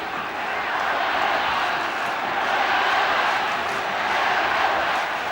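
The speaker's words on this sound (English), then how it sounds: "Listen to the roar from the crowd." A rugby league crowd roars at Brookvale Oval during a 1992 Winfield Cup match between Manly Warringah Sea Eagles and Illawarra Steelers, a broad steady wall of distant crowd noise holding for several seconds with no clear talk.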